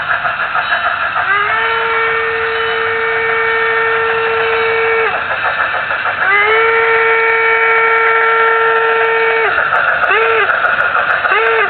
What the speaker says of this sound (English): here comes the steam locomotive